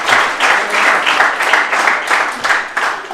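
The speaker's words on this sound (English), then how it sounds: "Let's give them a round of applause as well." An audience at an eighth-grade school speech event claps in a full, steady round of applause that swells in close, rhythmic pulses throughout.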